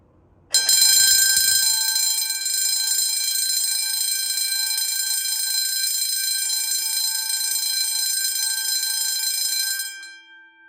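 An Edwards MB10-24 fire alarm bell rings loudly and continuously for about nine seconds, a steady metallic clangor that starts abruptly and stops with a short fade.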